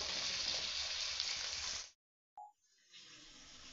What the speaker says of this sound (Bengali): এটাকে 1 মিনিট ধরে ভেজে নিতে হবে।